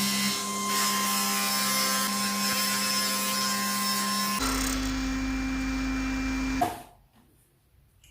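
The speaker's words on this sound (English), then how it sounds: "we'll fire up the table saw and trim this off so that it's a zero clearance edge" A table saw running as it trims a wooden sled edge to zero clearance, a steady loud motor whine and cutting hum that shifts pitch partway through, then cuts off abruptly into near silence.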